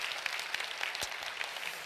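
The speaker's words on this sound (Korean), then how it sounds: "주님께 큰 박수로 영광을 올려드리겠습니다." A church congregation at a revival gathering claps for several seconds, a soft, fairly distant wash of applause with a few sharper claps standing out.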